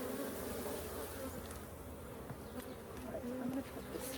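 Honey bees buzz steadily around an open hive during a summer hive inspection, a dense close droning hum that holds throughout with no talking.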